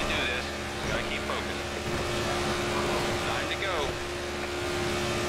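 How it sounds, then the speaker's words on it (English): NASCAR stock car engines from the NASCAR '14 video game at Daytona drone steadily and roughly, poorly running cars holding a constant hum with faint shifting tones beneath. "We both have crappy cars. You can hear them not running so well."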